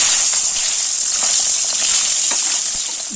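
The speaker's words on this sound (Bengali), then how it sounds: "এবার এই তেলে ডিমগুলোকে ভেজে নেব।" Eggs frying in hot mustard oil in a wok, a steady close sizzle with scattered crackles and pops running evenly throughout, no voices.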